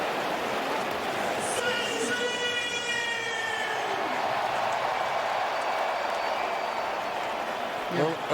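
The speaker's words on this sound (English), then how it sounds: "Try to silence this crowd" Large crowd at a baseball stadium roaring steadily through a Red Sox wildcard game, a dense wash of cheering that holds level from start to end, with an announcer's voice running over it.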